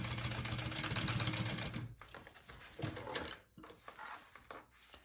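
A sewing machine basts a quarter-inch seam while a backpack is made, whirring steadily and fairly loud for about two seconds before stopping, followed by quieter handling clicks and shuffles of fabric.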